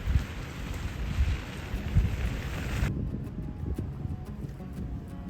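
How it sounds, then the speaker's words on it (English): Steady rain pours down, loud and dense at first, then eases into lighter patter with scattered drops after a few seconds; no voices. "It's kind of raining."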